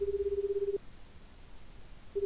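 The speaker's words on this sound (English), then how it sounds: "Kano immediately pulled out his cell phone and called Tateno's number." Phone ringback tone in a video game as a cell phone call is placed, a steady pulsed purring tone for under a second, then a pause before it resumes faintly at the end.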